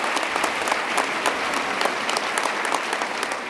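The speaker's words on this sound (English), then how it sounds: "Big round of applause for Majority Leader Dean Skelos." Dense, steady applause from a large audience at a 2014 executive budget presentation, greeting the Majority Leader; continuous clapping throughout with no speech over it.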